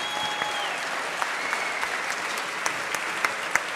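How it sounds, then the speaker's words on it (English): An audience at the 2014 TT launch event applauds in a continuous, even wash of clapping, with a few sharper individual claps standing out near the end. "Give him a round of applause, ladies and gentlemen."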